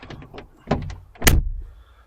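Cab door on a 2026 Cat 255 compact track loader opening and closing, with a sharp latch clunk at the end followed by fading rattle, close and fairly loud.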